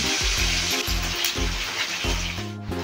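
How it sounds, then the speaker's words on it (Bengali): Rohu fish pieces fry steadily in hot oil in a pan, a loud continuous sizzle with soft rhythmic low thumps running through it, close up and without voices. "এই মাছগুলোর 1 পিঠ ভাজা হয়ে গেছে, অপর পিঠ সাবধানে উল্টে দিতে হবে"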